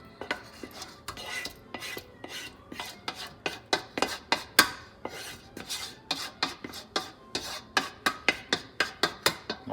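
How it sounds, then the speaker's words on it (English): Thick eggplant tomato sauce being scraped and spooned into a metal pasta pot, a steady run of sharp scraping and clanking strokes, close and fairly loud, with no talking. "I'm going to take my sauce now with the eggplant and we're going to put it in our pasta pot."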